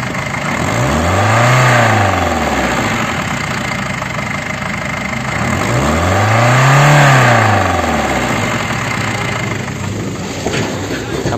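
A warmed-up 1996 Opel Frontera 2.5 TDS diesel engine revs twice from idle, each rise and fall clear and close, with a rough diesel clatter between the blips.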